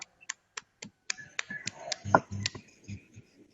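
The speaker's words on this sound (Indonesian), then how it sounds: "Kita kasih aplaus untuk kelompoknya Mas Umam ya" Scattered handclaps from a small class cheering a student group: sparse, crisp claps that bunch together briefly before thinning out, close by and fairly quiet, with no voices.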